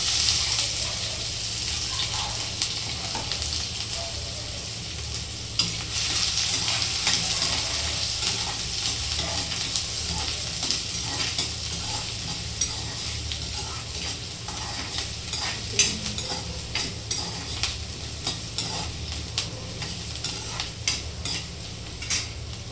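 Mustard seeds, garlic and onion sizzle and crackle steadily in a hot frying pan for a home-cooked sprouted moth bean dish, with occasional stirring scrapes and no talking.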